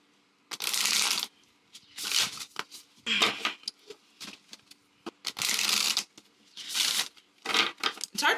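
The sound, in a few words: riffle shuffling a coated matte oracle card deck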